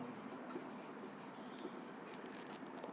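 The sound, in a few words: writing the solution on paper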